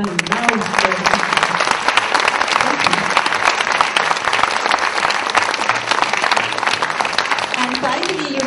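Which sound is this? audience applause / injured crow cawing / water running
audience applause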